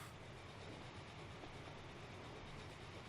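A steam train in the video game Transport Fever rumbles along during a steam haulage race, a faint, continuous rolling drone with a steady rail rhythm and no voices.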